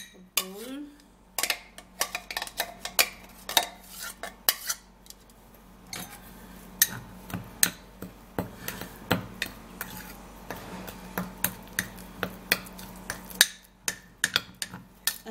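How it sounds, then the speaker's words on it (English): Cut papaya is scraped and tipped into a bowl, with repeated sharp clinks and taps of a utensil against the dish in an irregular rhythm, close and fairly loud, over a faint steady hum. "now I'm gonna be transferring the papaya into a bowl"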